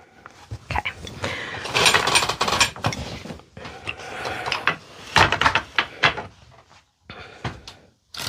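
Ratchet mechanism on a weaving loom being cranked to tighten the warp, giving bursts of clicking and clattering in irregular clusters, with short pauses between and a sharp final click.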